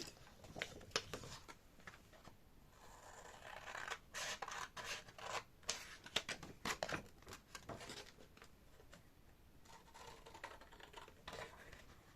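Scissors snip through paper while a dragon puppet is cut out, a quiet, close series of irregular clipping bursts with brief pauses, accompanied by faint paper crinkling.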